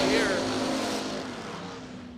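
A dragster in a drag racing shootout screams past and fades down the track, a loud engine roar that starts at full power and tapers away over two seconds, with an announcer talking over it.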